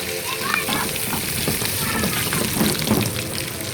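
Steady, dense sizzling of tadka spices frying in hot butter, a continuous crackle with small pops throughout, close by.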